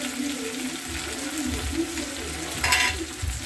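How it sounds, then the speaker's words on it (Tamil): Mustard seeds, fennel and onion frying in hot oil, a soft continuous sizzle with faint stirring knocks and a brief splash of running water near the end. "இப்போ எண்ணெய் காஞ்சிருச்சு. கொஞ்சம் கடுகு, கொஞ்சம் சோம்பு விட்டுக்கிறேன். ஒரு 1/2 கை வெங்காயம் போட்டுக்கிறேன்."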